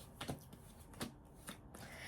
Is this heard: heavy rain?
no